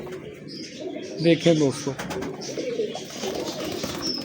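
Pigeons coo softly close by, their low murmuring calls and faint chirps mixed with rustling, while someone talks over them.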